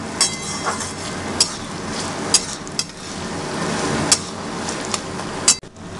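Onions being stirred in a kadhai pan while cooking kadhai chicken: a continuous loud sizzle with sharp metallic scrapes and knocks of the spoon against the pan at irregular intervals, close up and without talk.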